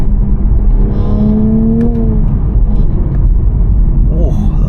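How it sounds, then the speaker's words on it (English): A 2024 Toyota GR Supra manual with a 390 hp engine drops into third, and its engine drone rises steadily under heavy road rumble inside the cabin, loud and continuous. "I'll do a downshift into third when we pass this underpass."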